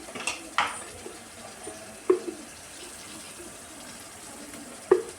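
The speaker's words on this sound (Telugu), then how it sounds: "కారం వేసుకున్న తర్వాత మంచిగా మనం దీన్ని కలుపుకోవాలి" A spoon stirs chili powder into a tomato and boiled egg curry in a pan, giving a few sharp metallic clanks against the pan over a quiet, faintly hissing background.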